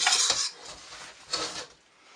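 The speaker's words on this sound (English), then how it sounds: "Scoop it all up." Spoon scraping and clinking against a dish while scooping up pinakbet with eggplant, prawns and fish balls, two short scraping bursts, close and fairly quiet, with no talking.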